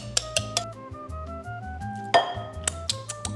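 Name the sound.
whisk mashing hot sweet potato in a bowl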